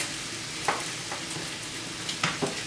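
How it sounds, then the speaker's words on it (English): A spoon stirs creamy grits in a pot, giving a few soft scrapes and taps over a faint, constant background hiss, quiet and close. "once this is all combined, I'm going to stir my grits again"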